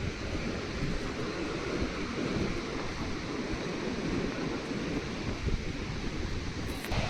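A steady roar of surf and rushing water fills the scene, broad and constant, with wind buffeting the microphone and no voices.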